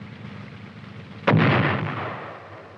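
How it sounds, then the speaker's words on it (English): An M551 armored reconnaissance/airborne assault vehicle fires a guided missile, a single sharp, loud blast that decays into a rumbling roar over a couple of seconds. "immediately squeezes the firing trigger. The missile is guided in flight by the vehicle's guidance and control system"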